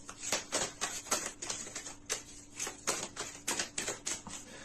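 Tarot cards shuffled and laid down in a steady run of crisp, papery flicks and snaps, close and fairly quiet, with no voices over them.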